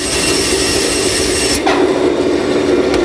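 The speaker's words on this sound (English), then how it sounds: "the bandsaw blade cuts right through this soft brass like it's butter" Bandsaw blade running through a soft brass rod, a loud steady whining roar with a faint shift partway as the cut progresses, no voices.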